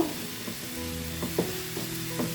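Tomatoes frying soft in a pan, a soft continuous sizzle with occasional stirring scrapes and clinks, fairly quiet and close, no talking.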